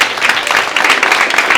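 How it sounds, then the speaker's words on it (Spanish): Dense audience applause fills the whole short stretch at a conference panel, loud and continuous with many overlapping claps. "Un aplauso, che, un aplauso."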